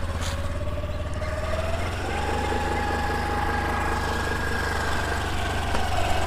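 A Honda Activa scooter engine runs steadily with a constant hum and slight rise in revs, loud and close, with no talk.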